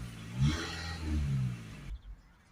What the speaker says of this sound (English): give us some bursts of throttle